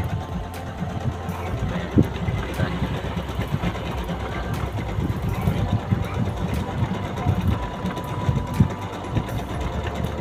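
A Toyo Singer sewing machine runs steadily throughout, a dense mechanical whir with rapid stitching rhythm and occasional sharper clicks, close and continuous.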